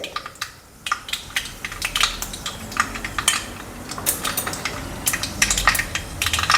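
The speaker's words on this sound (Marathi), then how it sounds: "आता मी थोडेसे मेथीदाणे टाकते" Fenugreek seeds drop into hot oil and crackle in a stream of small sharp pops and ticks, close and fairly steady, with no voices over them.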